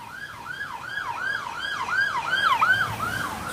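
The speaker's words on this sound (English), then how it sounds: "Just wait for the siren to go past there." A wailing siren rises and falls in a steady, repeating cycle, growing slightly louder as it passes nearby.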